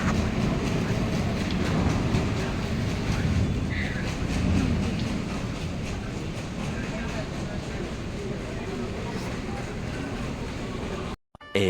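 An MRT metro train in Taipei, Taiwan arrives, rumbling steadily nearby with faint rail clatter, a continuous loud mechanical drone throughout, with a sharp dropout at the very end.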